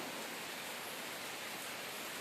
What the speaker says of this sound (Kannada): ಹೊರಗಡೆ ಎಷ್ಟು ಜೋರಾಗಿ ಮಳೆ ಬರ್ತಾ ಇದೆ